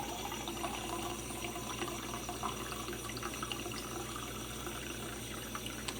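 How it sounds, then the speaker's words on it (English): Steady running water pours from a tap into a cup, a continuous hissing splash with no talking. "Adding cool water from tap."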